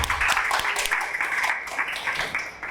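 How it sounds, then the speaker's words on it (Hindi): A group applauds for Kazi during an introductory accounting class, a short and lively round of many hands clapping that stays fairly even and close, with no speech heard over it. "सर काजी के लिए तालियां"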